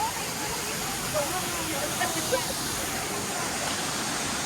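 Mambontan Falls pours in a steady, broadband rush of falling water, a continuous roar close by with no clear breaks or distinct splashes standing out.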